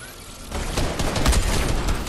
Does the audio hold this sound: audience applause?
no